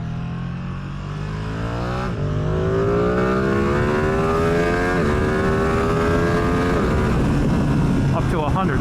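A Ducati Streetfighter V2 motorcycle accelerates hard through the gears, its engine note climbing in pitch and dropping at each shift, loud and close amid rushing wind.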